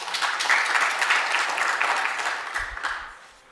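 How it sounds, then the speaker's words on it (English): An audience at a research outputs workshop gives a steady round of applause for about three seconds, dense and close, then fading out at the end. "Let's give you another round of applause."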